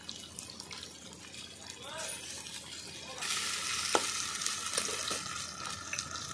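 Ground spice paste and potatoes fry in a pan, a faint sizzle that swells into a louder, steady hiss about halfway through, with a few utensil knocks and brief scraping stirs.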